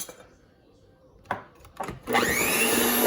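An electric hand mixer starts up and whirs steadily while blending red velvet cookie dough with dry ingredients, preceded by a few quiet knocks and bumps in the kitchen.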